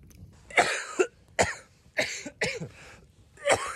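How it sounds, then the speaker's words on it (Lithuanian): Several people around a campfire cough in short separate bursts, five or six harsh coughs spaced across a few seconds, close and clear against a quiet night. "Tokia buvo užėjus ką tik kosulio epidemija."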